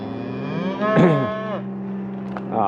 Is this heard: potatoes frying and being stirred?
no